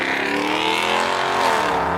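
A red Nissan S15 drives out of a park car show, its engine note rising in a loud, continuous drone close by, with no talking.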